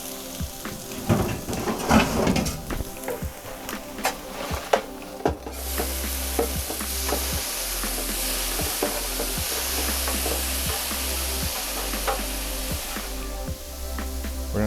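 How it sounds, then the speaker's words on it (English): Shrimp sautéing in a RATIONAL iVario Pro for shrimp scampi: clattering and scraping at first, then a dense, steady loud sizzle begins as the shrimp hit the hot surface, with occasional utensil knocks. "So now I'm going to go ahead and put our shrimp in."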